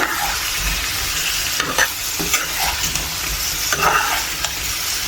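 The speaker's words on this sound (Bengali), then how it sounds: "সবজিগুলো হচ্ছে কষিয়ে নিচ্ছি" Vegetables stir-fried in a pan with a steady hiss of frying oil and repeated scraping strokes of a spatula, close and fairly loud, with no talking.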